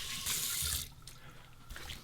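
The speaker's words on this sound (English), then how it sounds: "Rinse the face with cold water." Cold tap water running into a sink while a face is rinsed after shaving, a close hiss that breaks off and splashes in uneven bursts.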